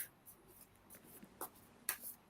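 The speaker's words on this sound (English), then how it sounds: "I start shuffling cards" A deck of cards is shuffled by hand during a card reading, producing faint, scattered rustles and soft riffling flicks, with a sharper burst toward the end against a quiet background.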